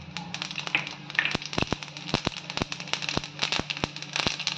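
Mustard seeds and cumin splutter in hot oil in a pan, sharp irregular pops and crackles bursting close and loud over a low sizzle.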